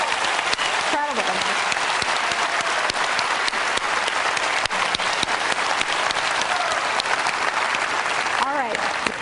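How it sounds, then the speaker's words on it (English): Sustained, loud applause from a large audience for a speaker at a health presentation, a dense unbroken roar of clapping hands with a brief faint voice or cheer rising through it. "let's just give him another round of applause"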